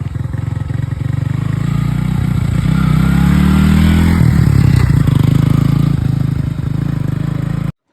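A motorcycle engine runs continuously and close by, droning and rising slightly as it rides, with rattling and wind noise over the whole ride.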